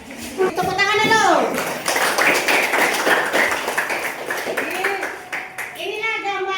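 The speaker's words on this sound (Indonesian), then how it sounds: "Tepuk tangan dulu" Classroom of children clapping hands on a teacher's cue, a burst of quick, uneven claps in the middle, with children's voices chattering before and after.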